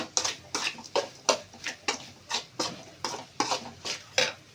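A spoon stirs masala around a pan for fried rice, giving regular scraping strokes at a steady rhythm, each a short clattering swipe against the metal, close and clear with no talk.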